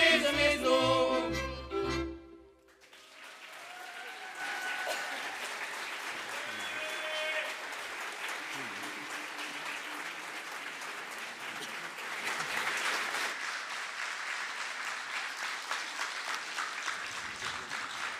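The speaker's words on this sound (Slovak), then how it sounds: "Váš potlesk patrí ľudovej hudbe Gregovcov" Audience applause fills a hall after a folk band's song at a folk evening in Spišské Vlachy, Slovakia, rising steadily from the end of the music and holding as a dense, sustained clatter of many hands.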